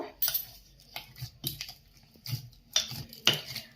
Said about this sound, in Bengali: এবার আমি এটাকে এর মধ্যে আবার অল্প অল্প গুড় দিয়ে আমি খুব ভালোভাবে ব্যাটারটা রেডি করে নেব